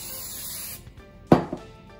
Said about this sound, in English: spray your oil